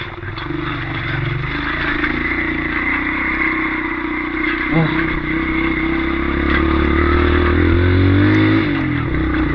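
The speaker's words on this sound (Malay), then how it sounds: "Bunyi bar motor." Motorbike engine riding off-road along a forest trail, a steady loud drone that rises and falls with the throttle and holds close and continuous throughout, with no talk over it.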